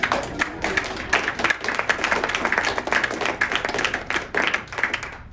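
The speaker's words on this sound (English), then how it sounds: "Can we give her a big round of applause?" A small group claps for a volunteer after a balance demonstration at a regenerative farming talk, scattered hand claps with uneven rhythm at moderate level, no voices over it.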